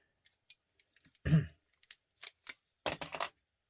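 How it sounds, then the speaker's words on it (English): A single rough dry cough bursts out among scattered clicks and small metallic tapping noises while sorting scrap copper and brass, followed by a few sharp scraping sounds. "A dry cough."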